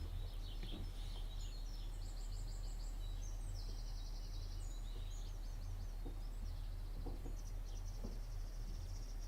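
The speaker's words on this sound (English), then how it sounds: "There's just birds now." Faint birds chirp and trill in the Stardew Valley farming game, scattered high calls over a quiet, steady background with no music.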